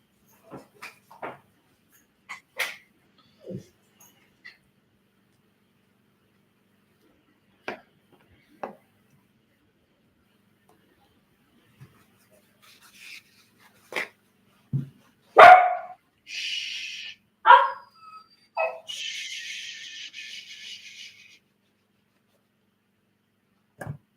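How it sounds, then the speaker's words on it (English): Hungry puppies making scattered whimpers and small yips, building to a few louder barks and a drawn-out whine near the middle, with quiet gaps between calls. "Don't worry, I'm coming to feed you. Puppies are hungry."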